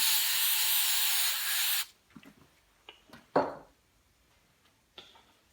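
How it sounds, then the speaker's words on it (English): A steady, loud aerosol can of brake parts cleaner hisses for about two seconds onto a Kohler 23 horsepower engine, then stops, followed by a few faint clicks and light handling noises. "So I get some carb parts cleaner, some brake parts cleaner, and spray that down."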